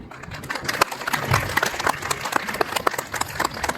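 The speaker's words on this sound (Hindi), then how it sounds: "और मैं सभी से अनुरोध है कि जोरदार तालियों से स्वागत किया जाए।" An audience at a Hindu community gathering in a residential colony applauds to welcome guests, a dense, continuous patter of many hands with a few louder individual claps standing out.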